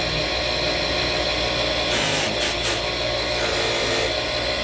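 A nail cutter being buffed on a buffing machine gives a loud, steady broadband whir that runs unbroken, with brief bright hissing surges midway as the metal is pressed against the wheel.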